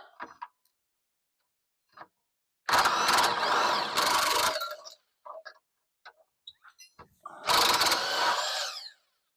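Hand tools work loose the lower control arm bolt on a Jeep Cherokee XJ, heard as two loud bursts of rapid mechanical clicking, like a ratchet, with a few scattered clanks in between and quiet gaps around them.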